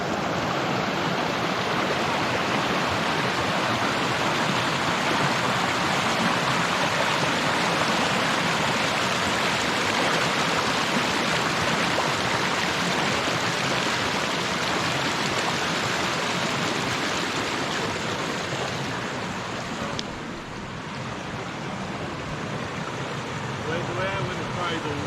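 A rushing stream on a forest hiking trail in Tioga State Forest roars as a loud, steady wash of water, continuous and close throughout.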